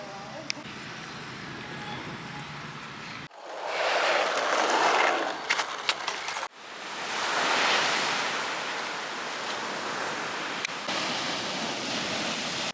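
Ocean surf breaks and rushes on a beach in loud, hissing washes, heard in three abruptly cut segments, with gusty wind buffeting the microphone.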